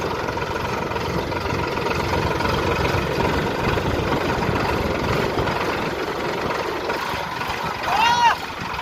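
A tractor engine runs steadily in a chickpea field during harvest, a continuous loud drone through the whole stretch, with a short high chirp near the end.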